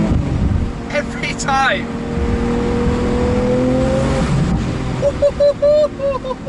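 Mansory Carbonado Lamborghini Aventador Roadster roaring nearby with a rising exhaust note, then a quick burst of sharp pops and bangs from exhaust fireballs near the end, while someone speaks briefly over it.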